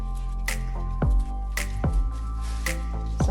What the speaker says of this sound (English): Clean up all this fat off the chicken.